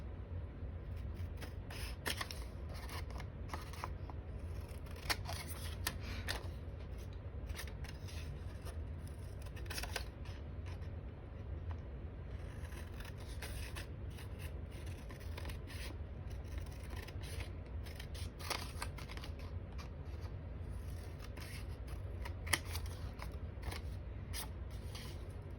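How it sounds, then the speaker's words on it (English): Quiet, close scissors snipping and paper rustling as a paper template is cut out for a handmade journal, with irregular small cuts spread over a steady low background hum. "So we're going to go ahead and cut this out"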